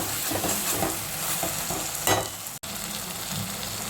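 Vegetable pieces are stirred in hot oil with salt, chili powder and turmeric for a mixed vegetable pulusu. A spoon scrapes and clatters against the pan over a soft steady sizzle, with one brief louder scrape near the end.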